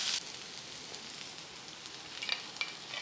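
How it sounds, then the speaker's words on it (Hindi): Chopped onions and garlic fry in a pan with a steady, quiet, close sizzle and occasional brief crackles, with no one talking. "प्याज को बस हमें ट्रांसल्यूसेंट करना है, इसे गोल्डन नहीं करना है, बस थोड़ा देर इसे फ्राई करना है।"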